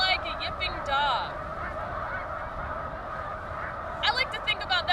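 Snow geese honk in a noisy flock, higher-pitched and more nasal than Canada geese, with repeated overlapping calls at the start and again near the end over a steady background of distant birds.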